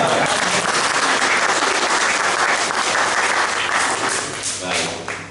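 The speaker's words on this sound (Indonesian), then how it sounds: "kayaknya tepuk tangannya nanggung ya" Applause from a church congregation during a Sunday Baptist fellowship service, a dense steady wash of clapping filling the room throughout, tapering slightly near the end.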